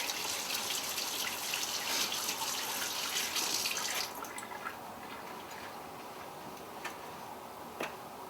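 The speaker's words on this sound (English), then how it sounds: "let me wash my hands here real quick" Tap water runs steadily at a kitchen sink while hands are washed, a loud close splashing stream for about four seconds, then a quieter trickle with scattered drips and small knocks.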